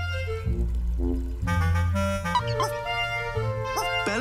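A cartoon dog barks and yips in short, bright, high-pitched bursts over a running musical backing, several quick yaps spaced across the passage.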